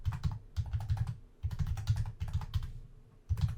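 Rapid clacking of a computer keyboard as someone types in a code editor, short bursts of close keystrokes separated by brief pauses.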